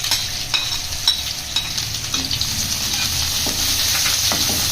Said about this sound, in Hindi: ज़ीरा ऐड करके हम इसे रोस्ट करेंगे।